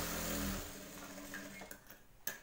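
A sewing machine stitches along the folded edge of a blouse, a faint whirring run that stops after half a second, followed by a few quiet clicks and handling taps.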